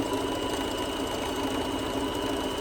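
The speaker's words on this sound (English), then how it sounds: "put your presser foot down so you don't knot up the machine" A sewing machine stitching a fabric face covering runs in one steady, close, continuous mechanical whir with a fast even rhythm and no talking over it.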